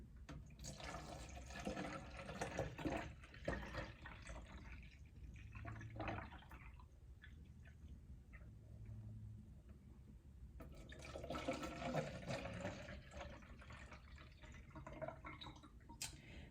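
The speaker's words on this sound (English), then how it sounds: "I have my 16-ounce bottle, and I'm just going to pour it in and get it ready for the freezer." Strained celery juice pours into a 16-ounce bottle, a faint liquid trickle and drip that comes in two stretches separated by a quieter pause, heard close in a quiet kitchen with no talking.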